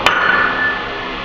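A single sharp metallic whack of a slide puller against a valve spring retainer on an air-cooled VW Type 1 engine, a close hard strike followed by a long ringing metallic decay.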